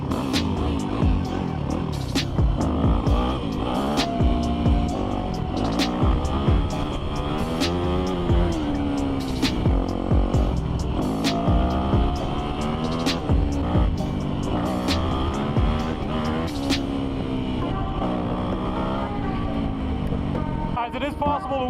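A Yamaha YZ250F dirt bike engine revs hard in second gear, a loud, continuous, buzzing drone whose pitch rises and falls repeatedly as the throttle is worked, with a voice talking faintly underneath.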